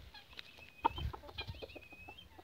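A Cochin hen clucking in a rural farmyard, a string of short, soft clucks in irregular rhythm, close by and fairly quiet.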